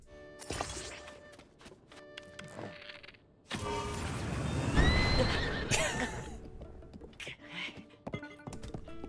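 A horse in Zelda: Tears of the Kingdom whinnies loudly and skids, with hoof clip-clops, thuds and game effects in between, mostly alone with brief talk nearby.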